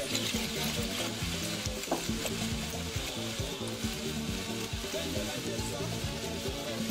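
Two tablespoons of pureed spices sizzle loudly in a hot pan while being stirred, a dense close crackle with scraping and bubbling throughout, with no talking.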